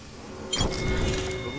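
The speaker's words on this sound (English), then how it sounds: "Reloading." A weapon reloads in Apex Legends, a sudden mechanical clack followed by a short metallic rattle and a lingering ringing tail, close and moderately loud.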